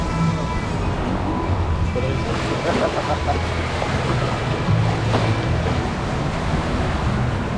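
Ocean waves wash and rumble continuously, with a steady broadband roar, and faint voices murmur in the background.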